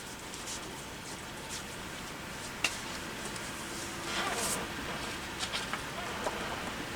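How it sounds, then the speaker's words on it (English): Heavy rain pours down steadily outdoors, a faint continuous hiss of drops with a few brief brighter splashes, low in level. "it's pouring down rain."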